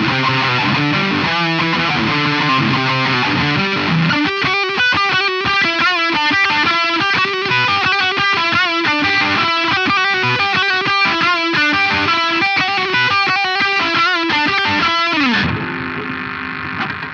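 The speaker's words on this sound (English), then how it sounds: "no one has stacked the drive and the distortion until now." An electric guitar riff played through stacked overdrive and distortion pedals with heavy gain, dense and loud with fast, chunky palm-muted rhythmic chugging and sustained crunchy chords, ending with a ringing chord that fades.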